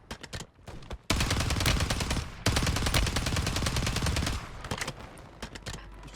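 WSP-9 submachine gun firing in Call of Duty Warzone, loud rapid automatic bursts in two long sustained strings after a few short shots, close and dominant.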